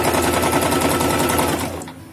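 Sewing machine stitching a folded fabric strip for a tie, a rapid, even mechanical clatter of needle strokes close by, slowing and fading out at the end.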